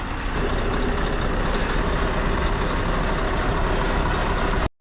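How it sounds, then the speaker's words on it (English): Truck air suspension being filled with air, a steady, loud broadband rush of air and engine noise that runs unbroken for about five seconds, then cuts off abruptly. "The suspension needed air, so I just fill it in with air."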